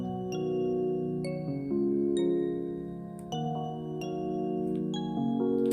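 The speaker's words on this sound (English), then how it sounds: "You can also use Music Box." Delicate, tinkling music box notes play a slow melody, each plucked tone ringing and decaying, steady and moderately quiet.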